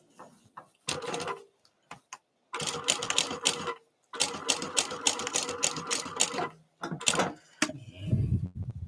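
A sewing machine runs in several bursts, stitching a Bottle-Up Sling, its rapid mechanical chatter loud and close with brief pauses between runs.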